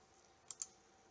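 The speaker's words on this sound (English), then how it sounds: "if I go into ProStitcher first of all and I click run" Two faint, crisp mouse clicks close together, starting a ProStitcher computerized quilting run, against quiet room tone.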